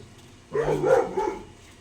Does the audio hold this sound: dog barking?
yes